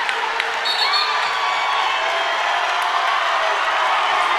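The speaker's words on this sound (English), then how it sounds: "Listen to this crowd." Loud, sustained crowd roar at a college basketball game, Cardinals against Navarro, cheering building as the home team cuts the lead, with shouts and whistles over a thick wall of noise.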